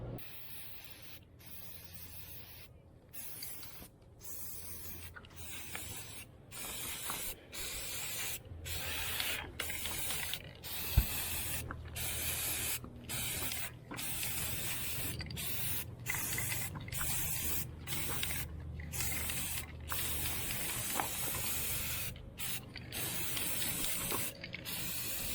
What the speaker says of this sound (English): We'll spray some paint.